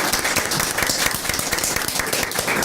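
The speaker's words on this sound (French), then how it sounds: "On applaudit Martine, s'il vous plaît." Lively audience applause for a guest named Martine on a French TV variety show, with sharp, rapid, closely packed claps that stay loud and near throughout with slight surges.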